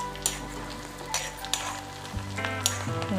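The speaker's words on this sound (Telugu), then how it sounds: "ఇలా మంచిగా ఫ్రై అవుతుందండి" Onions frying in ghee for a chicken sambar made with sorghum, giving a steady close sizzle with a few brief clinks of a spoon against the pan and a low hum underneath; no one speaks.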